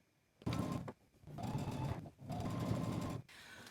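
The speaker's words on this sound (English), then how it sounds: "I'm going to understitch starting at the center back down one end" Sewing machine understitching a bodice facing, running in three bursts of steady motor hum and needle clatter with short pauses between, close and fairly quiet.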